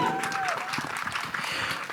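An audience applauds a film producer at a teaser launch event, a dense continuous patter of clapping mixed with crowd noise and a voice talking over it.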